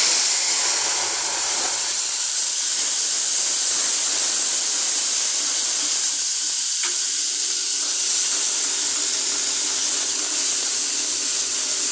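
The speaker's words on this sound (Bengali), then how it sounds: "প্রথমেই কড়াতে তেল দিতে হবে এবং এর মধ্যে আদা রসুনের পেস্ট" Ginger garlic paste sizzling in hot oil in a kadai, a loud continuous hiss and crackle close up, steady throughout with no talk.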